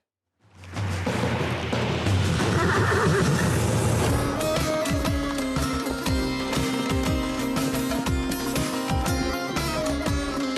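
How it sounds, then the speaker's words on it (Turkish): An Akhal-Teke horse whinnies loudly and at length, and music plays with it throughout. "ahal teki atları, ince yapıları, ışığı yansıtan parlak tüyleri ve yüksek dayanıklılıklarıyla dünyanın en özel at ırklarından biri"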